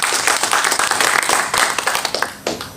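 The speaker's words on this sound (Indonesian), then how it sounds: "Tepuk tangan." A church congregation claps hands during a worship service, loud and close. The claps are sharp and fairly rhythmic, with audible individual slaps in a dense burst that keeps up throughout.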